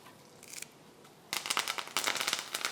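Urad dal, red chilli and asafoetida sizzling in pure coconut oil for a tempering, sharp spitting crackles and pops in close, uneven bursts after a brief quieter start.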